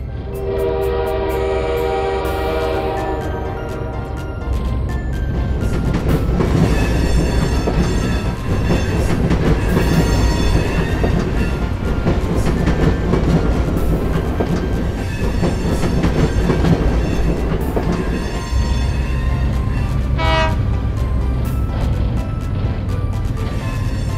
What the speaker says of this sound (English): Here we test different trains.